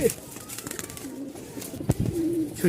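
Running Danish pigeons, including ice-bar and cream-bar birds, coo and stir close by in a loft, with low throaty calls and brief rustling bursts over a couple of seconds.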